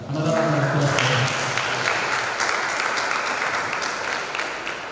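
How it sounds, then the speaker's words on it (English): Attendees at an academic workshop in Durban give the Executive Dean a round of applause, dense clapping near and steady that slowly eases, with a speaker's voice heard briefly at the start. "Another one of applause."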